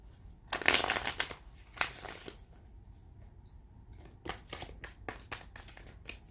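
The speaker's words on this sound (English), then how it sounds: "So I'm finishing up my shuffle here." Tarot cards being shuffled close up, with a dense riffling burst near the start, a second shorter flurry, then a quiet gap before a run of brief, crisp card snaps and flicks.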